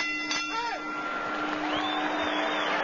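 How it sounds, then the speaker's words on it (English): A boxing ring bell rings to end a round at a Julio Cesar Chavez bout, one bright ding early on ringing over a faint crowd murmur. "Terrence Ali showing tremendous heart as we head for the bell"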